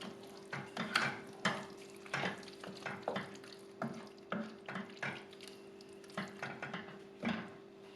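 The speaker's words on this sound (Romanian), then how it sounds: "Amestecăm și mai lăsăm să mai fiarbă cam pentru 10 minute." A spoon stirring a simmering Turkish-style eggplant stew in a pot, giving close, irregular scraping and clinking strokes over a soft bubbling sizzle and a low steady hum.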